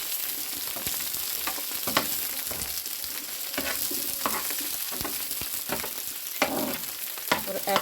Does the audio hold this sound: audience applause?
no